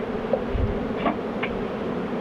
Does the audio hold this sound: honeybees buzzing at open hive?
yes